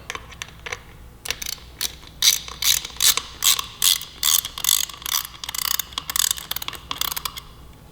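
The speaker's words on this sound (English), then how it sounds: "by running this fastener into that well nut that we've installed" A fastener is run into a well nut with a T25 Torx bit while a fender eliminator is fitted to a 2018 Suzuki GSX-R1000. Quick, repeated ratcheting clicks come in close, rhythmic bursts with no talk.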